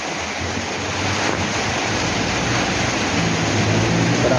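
Steady, dense rain hisses without a break, loud and close, with a low rumble underneath and no talking.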